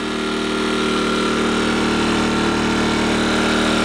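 An Earthquake IG800W inverter generator runs at close range with a loud, steady hum and a constant engine drone that does not change over a few seconds, with no voices.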